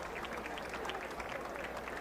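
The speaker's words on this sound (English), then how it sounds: "Round of applause from the Lions faithful." Lions fans at a college football game between Nicholls and SE Louisiana give a round of applause, a steady wash of distant crowd clapping from the stands.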